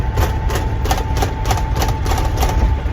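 Loose doors on a 1992 Kenworth W900 dump truck rattle in quick, uneven bursts over a steady low engine drone inside the cab, loud and continuous throughout.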